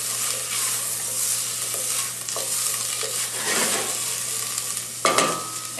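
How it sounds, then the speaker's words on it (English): Diced onions cook in butter in a pot for risotto, giving a soft steady sizzle with occasional scraping stirs of a spoon and a sharper clack near the end, close and unaccompanied by talk. "with a little butter in the pot, and then you add your diced onions"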